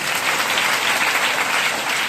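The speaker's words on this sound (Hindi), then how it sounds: "जोरदार तालियां" Loud, sustained applause from a crowd, dense clapping filling the whole moment without pause.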